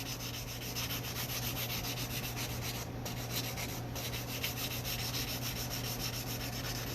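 A guitar string nut is sanded smooth and polished, giving a steady, continuous rubbing rasp that runs throughout, close up and without any voice.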